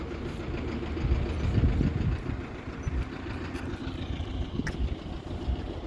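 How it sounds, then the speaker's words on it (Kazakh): A motor pump runs steadily, pumping out sewage water beside a nine-storey apartment building, a low continuous hum with a faint rumble, fairly close and alone. "Мотор қосып былай ақтырып отыр."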